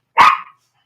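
A single loud, close dog bark, short and sharp with a quick tail-off, heard alone with no talking around it.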